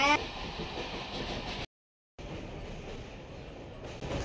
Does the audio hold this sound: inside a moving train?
yes